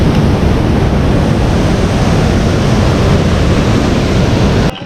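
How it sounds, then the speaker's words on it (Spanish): Continuous roaring rush of a waterfall close by, heard from right beneath it at a scenic lookout in Huila, a steady dense wash of falling water with wind buffeting, cutting off abruptly at the end. "literalmente uno queda debajo de la cascada, uno la siente muy cerca"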